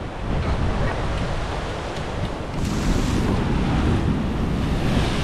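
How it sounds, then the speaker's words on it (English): Ocean surf pounds a shore under strong wind, a dense continuous roar of breaking waves and gusts buffeting the microphone, growing heavier in the second half with no voices. "We could feel the ocean spray all the way from here."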